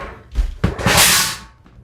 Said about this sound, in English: I just dropped the side panel.